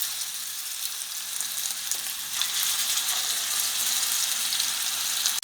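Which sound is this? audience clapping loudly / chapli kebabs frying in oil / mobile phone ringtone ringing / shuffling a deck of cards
chapli kebabs frying in oil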